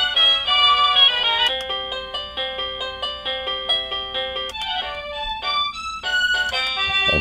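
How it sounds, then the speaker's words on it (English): A rapid sequence of electronic phone ringtones, each short melodic tone pattern cutting to the next, bright and fairly loud. "You got a never-ending supply of ringtones"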